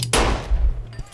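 A single sharp gunshot in a movie scene, a loud close crack with a booming low tail that fades over about a second.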